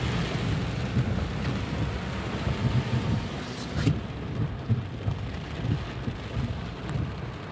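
Steady rain falls during king tide street flooding in Miami, a constant wash of drops on wet surfaces with occasional sharper splashes and a faint low rumble beneath.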